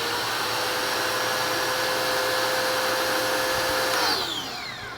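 A 4800 PSI electric pressure washer motor runs with a loud, steady whine and hum throughout, then its pitch drops and the sound fades slightly near the end as it winds down.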